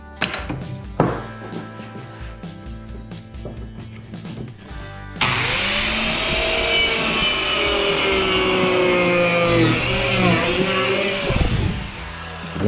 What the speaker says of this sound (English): using our Dremel Multi-Max, we'll make these two cuts on the lower piece